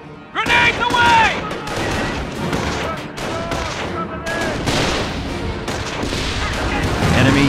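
Grenade blasts and rapid gunfire from a World War II battle in the video game Company of Heroes: repeated sharp explosions and crackling bursts throughout, with shouted soldier voices mixed in.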